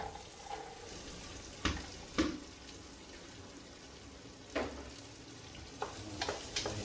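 Onion frying in a pan for egg puffs, a soft continuous sizzle broken by a few sharp scrapes and knocks of a spoon stirring, close and fairly quiet.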